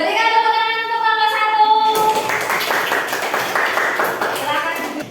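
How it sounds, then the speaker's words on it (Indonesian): A classroom group in Indonesia hears a voice speak for about two seconds, then a burst of steady hand clapping that carries on through the rest of the moment at a fairly loud level. "Berikan tepuk tangan untuk kelompok"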